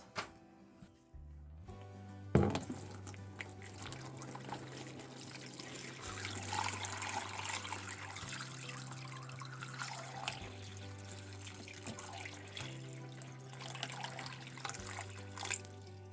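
Water runs steadily from a tap or jug onto a block of compressed cocoa coir, a continuous trickling and splashing that stays fairly soft and close for the whole stretch, with no speech.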